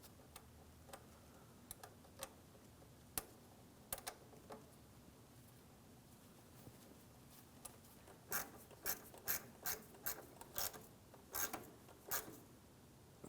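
Ratchet clicking as a mounting bolt is tightened beneath the front of a 2003-2008 Toyota Matrix during a power steering hose replacement, with scattered ticks early, then a faint, rapid run of ratcheting clicks near the end, no talk.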